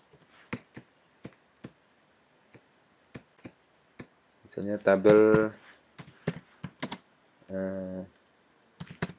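Computer keys clack in short, irregular bursts of close, crisp typing, with a voice speaking over part of it.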